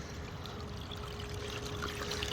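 A scoop of black sand and water with roots and clay spills into a gold sluice, making a soft, steady pouring trickle and splash close by, with no voices.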